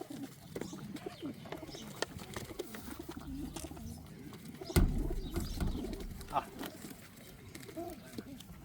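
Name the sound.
pigeon cooing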